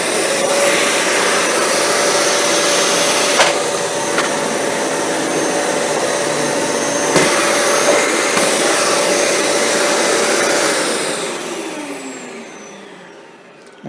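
A Dyson Cinetic Big Ball upright vacuum cleaner runs with its brush roll engaged, a loud steady whine with a constant tone throughout that fades down near the end as the motor spins off.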